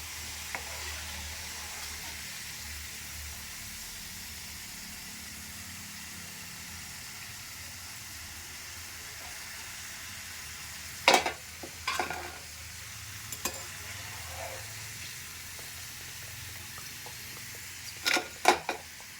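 French fries deep-frying in oil, turning light brown, make a soft continuous sizzle, fairly quiet and close, broken by a few sharp clinks of stirring near the end.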